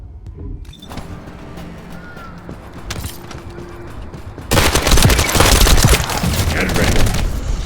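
A rapid-fire weapon shoots in a video game, a fast, dense burst of gunfire that erupts loudly in the second half after a quieter stretch with scattered sounds.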